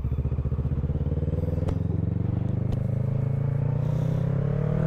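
A motorcycle rides off, its engine loud and close with a pulsing, throbbing exhaust note that rises in pitch as it accelerates, with a couple of brief clacks along the way.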